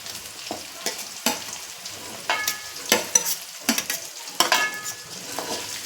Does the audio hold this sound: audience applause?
no